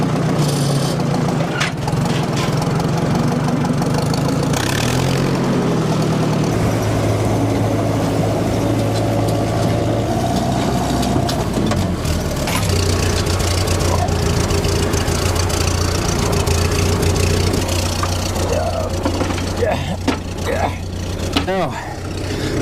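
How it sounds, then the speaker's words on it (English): A Willys Jeep engine runs on a farm, a low steady idle and rumble with shifting pitch as it revs and settles, mostly continuous, while people talk over it now and then. "Let the Willys have a shot,"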